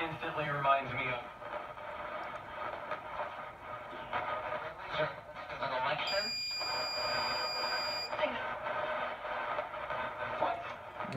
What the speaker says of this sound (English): that beeping is my battery supply